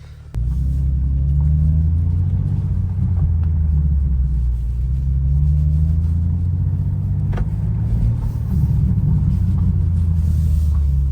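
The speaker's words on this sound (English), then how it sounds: "Holy fuck, this car sounds insane stock." A new sports car, stock, rumbles steadily at close range while driving, a deep continuous low-pitched engine drone with slight swells in intensity and no talk over it.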